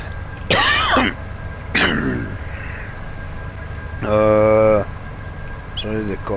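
A man coughs and clears his throat several times in close, loud bursts, with gaps of quiet room noise between them.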